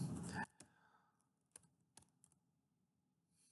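Typing on a computer keyboard: a loud burst of rapid keystrokes, then a handful of separate, sharp clicks spaced out over a few seconds against a quiet background.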